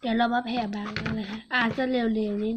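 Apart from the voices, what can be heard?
No everyday noises stand out.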